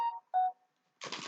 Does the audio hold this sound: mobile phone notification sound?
yes